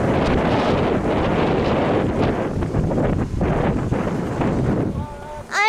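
Heavy, continuous wind buffeting an outdoor microphone during a high-altitude balloon launch, a loud rough roar that dips and surges for several seconds before cutting off near the end.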